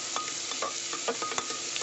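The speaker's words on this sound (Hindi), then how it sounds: "प्याज को हाई फ्लेम पर 1 मिनट भून लूँगी अच्छे से।" Onions frying in a pan over a high flame for aloo matar sabzi, a steady sizzle broken by repeated scraping stir strokes, close and clear with no voices.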